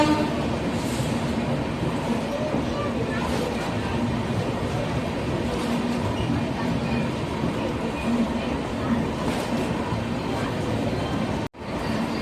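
The Madurai–Sengottai passenger train departing Madurai Junction rumbles along with a steady, dense roar and faint rhythmic clatter, recorded from inside; a brief dropout near the end.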